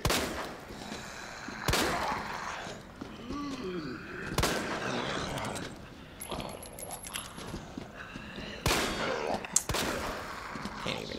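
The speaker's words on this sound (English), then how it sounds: "Shooting them right in front of me." Gunfire from the Resident Evil 2 parking garage, several sharp shots spaced a few seconds apart as zombies are shot at close range, over a steady game soundscape.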